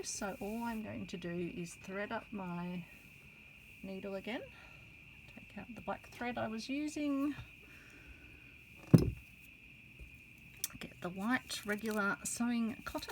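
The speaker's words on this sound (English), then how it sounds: "It's the sound of an Australian summer with the cicadas singing outside." Cicadas sing outside during an Australian summer, a steady high-pitched drone that runs unbroken throughout, faint and distant beneath someone speaking calmly indoors while she sews, with one soft knock partway through.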